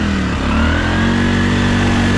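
A custom Honda Fourtrax 300 6x6 ATV drives through mud, its engine droning loud and close with a steady mid-pitched note that rises slightly as it pulls.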